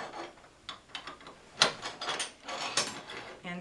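A Clark socket slides onto the rail of a hospital bed, producing a few quiet metallic scrapes and clicks; the sounds are faint and close, with brief rubbing between them.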